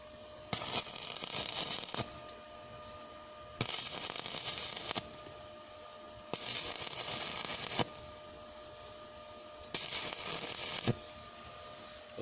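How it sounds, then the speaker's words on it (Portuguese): Arc welding runs a bead on a steel plate for a sliding gate, at reduced amperage on thin plate that was burning through, heard as four separate bursts of harsh, crackling hiss, each lasting over a second with quiet gaps between. "Corri um cordão de solda aqui"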